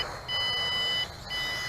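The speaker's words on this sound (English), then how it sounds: "Now that's the headless mode beep for you." An XK X260 RC quadcopter sounds its headless-mode alert: a loud, sustained electronic beep that holds steady, breaks briefly, then resumes, over a low background hum with no talking.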